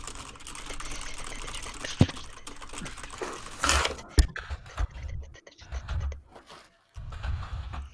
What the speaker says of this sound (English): Give me some keyboard typing fingers,